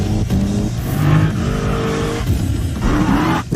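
A Dodge SRT Challenger Hellcat roars loudly and close up in a TV commercial, its engine revving hard with screeching, skidding tires, sustained and powerful throughout.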